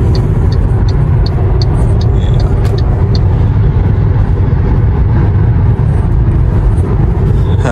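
A car cruising on the German autobahn toward Stuttgart produces a loud, constant roar of road and wind noise with a deep rumbling low end, unbroken throughout and faint ticking clicks near the start.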